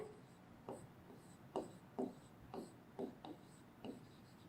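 Chalk tapping and scraping across a classroom blackboard in short strokes, roughly eight quick marks with brief pauses between, close and fairly quiet.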